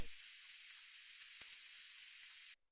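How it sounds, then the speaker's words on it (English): A quiet atmospheric noise sample from a deep house track, a steady airy hiss like soft static that holds evenly for over two seconds, then cuts off abruptly, with no voices. "the final layer that we have here is just this little atmospheric noise"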